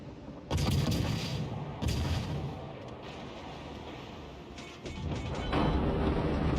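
Heavy naval guns boom in a warship combat video game, three loud blasts with rumbling tails spread across a few seconds, no talk over them.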